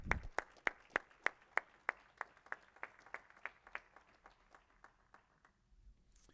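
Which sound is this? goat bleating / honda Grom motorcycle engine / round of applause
round of applause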